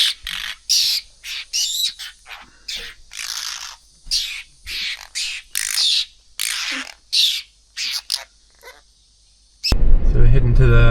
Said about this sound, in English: this morning we've got the apostle birds coming to say hello to us